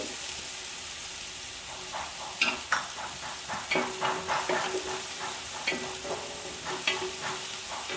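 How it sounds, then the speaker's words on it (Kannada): Chopped ginger fries in a pan for mutton bhuna masala while a spoon stirs it, making irregular scraping strokes over a continuous soft sizzle, close and moderately loud. "ಇದು ಕೆಂಪಾಗೋ ತನಕ ಹೊಡಿಬೇಕು"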